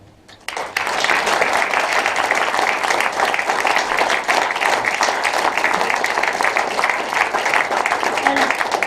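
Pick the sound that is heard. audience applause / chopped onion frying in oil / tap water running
audience applause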